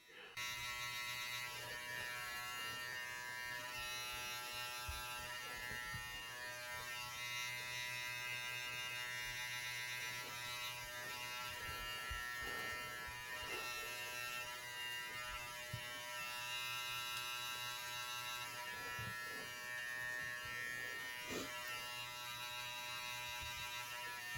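Electric hair clippers fitted with a number 1 guard, run fully closed during a self haircut blending the back of the head, buzz steadily and closely for the whole stretch with brief changes as the blade moves through hair.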